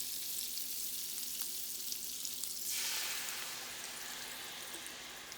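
Lobster and shrimp alfredo ingredients sizzle steadily in a hot pan, a continuous close frying hiss that grows brighter and louder partway through, with no talking.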